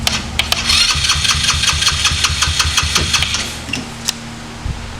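A small MBX mini bike engine cranks with an electric starter, rapid rhythmic chugging that tries to catch for a few seconds and then stops, close and loud, with no talk over it.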